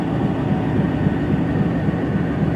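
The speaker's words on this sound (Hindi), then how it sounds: "दोस्तों स्लो लोकोमोटिव आ रहा है।" A slow locomotive rumbles steadily as it approaches to couple onto a train, a continuous low drone with faint metallic texture, fairly loud and unbroken, with no talking.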